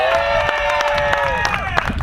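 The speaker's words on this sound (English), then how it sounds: "Let me hear the crowd here." A crowd cheers at a loudest-exhaust car competition, with sustained yells and whoops and scattered claps, loud and close, for a brief burst.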